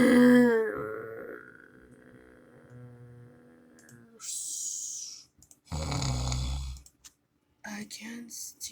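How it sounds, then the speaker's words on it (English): Someone snores loudly, with a deep, rasping rattle at the start, followed by breathy bursts and scattered clicks and gaps, with a voice heard in the clip as well. "she's still snoring louder"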